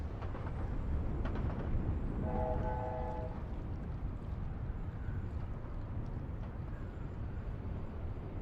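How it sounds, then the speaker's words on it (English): Rumbling rolling noise of the Hogwarts Express train passing in the video game Hogwarts Legacy, a dense steady roar with a brief tonal whistle-like note partway through, loud and continuous. "There's the Hogwarts Express."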